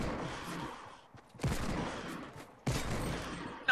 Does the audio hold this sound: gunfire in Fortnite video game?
yes